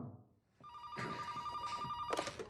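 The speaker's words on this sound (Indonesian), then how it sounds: "Tiba-tiba ada telepon." A telephone rings in a quiet film scene: after a soft opening, a loud electronic bell sounds in two bursts, close and alone.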